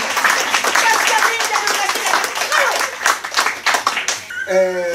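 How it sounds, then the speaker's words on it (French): A show audience claps for a performer in a steady burst of many hands, loud and close, with voices mixed in. The clapping ends abruptly near the close, where a voice cuts in. "On applaudit Pascaline pour son courage"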